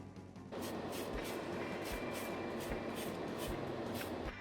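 Aerosol spray of Tamiya metallic gold paint laid onto small die-cast model car parts, including a chain cutter, with a steady hissing burst running continuously for about four seconds, close and fairly loud, with no talking.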